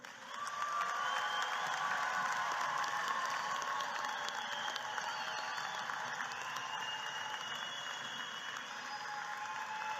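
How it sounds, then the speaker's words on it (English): Commencement audience applauding graduating scholars at an afternoon university ceremony, a steady wash of distant clapping with faint crowd cheering, sustained for the whole stretch at moderate level. "Please give these scholars one more round of applause."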